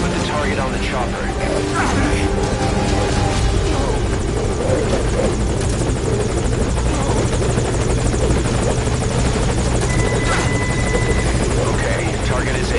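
Steady, loud rotor thump and engine whine from a helicopter waiting at a landing zone in Metal Gear Solid V, continuous throughout while voices talk over the din.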